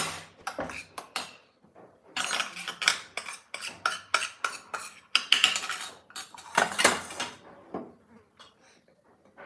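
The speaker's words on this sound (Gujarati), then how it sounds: "આપણે લસણ નહીં ખાંડીએ અધકચરું ખાંડીશું" Garlic being coarsely pounded in a mortar, a run of sharp, close metallic knocks and clatters coming in uneven bursts with brief pauses between them.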